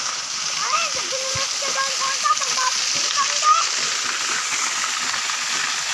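A waterfall at a local barangay site, passed on a morning walk, gives a steady, moderately loud rush of falling water while people talk over it.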